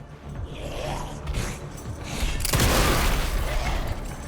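A gunshot in Resident Evil Requiem, landing as a loud, sharp crack about halfway through and followed by a sustained, noisy roar, with quieter rustling and mechanical sounds before it.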